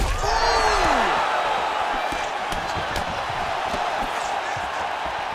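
Capacity arena crowd roaring and cheering in the UFC 5 video game between rounds of a championship fight, a loud continuous wash of crowd noise with occasional sharp thuds throughout.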